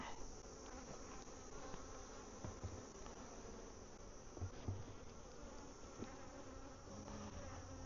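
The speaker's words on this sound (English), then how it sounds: "Number 10 has a lot of unemployed bees." Steady, dense buzzing of many bees around beehives in an outdoor bee yard, a continuous close drone with no talking.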